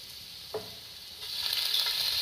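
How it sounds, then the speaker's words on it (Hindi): Minced garlic and ginger sizzle in hot frying oil in a pan, a steady hiss that briefly clicks with a stir, then swells louder and brighter for the final second, with no talking. "थोड़ा सा इसको फ्राई करेंगे ताकि हमारी जो लहसुन है ये थोड़ा सा भून जाए"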